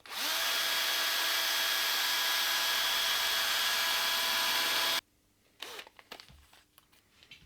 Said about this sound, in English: I'm just going to start the drill and sand, and it will go pretty quick